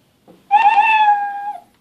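A single electronic, synthetic-sounding meow, held steady for about a second, preceded by a faint soft click.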